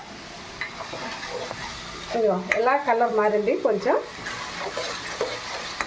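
Ground onion paste fries in a pan with a steady moderate sizzle and occasional stirring scrapes, while someone talks over it partway through.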